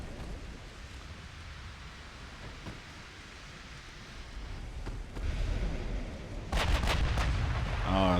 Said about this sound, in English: it looks like our big guns are firing on the destroyer now